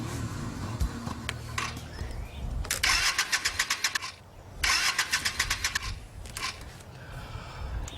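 A motorcycle engine cranks without catching in two rapid, chugging bursts of about a second each, over a steady outdoor background hum.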